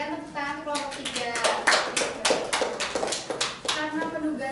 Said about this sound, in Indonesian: Berikan tepuk tangan kelompok 3.